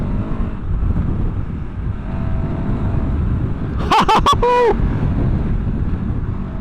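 A 2024 KTM 1290 Super Adventure R motorcycle at speed, around 70 mph, gives a steady loud roar of engine and wind buffeting with a brief cluster of sharp thumps and a rising whine partway through.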